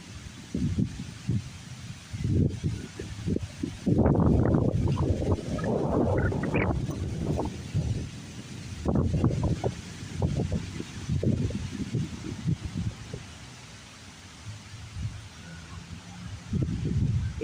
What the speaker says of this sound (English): It's breezy out here, guys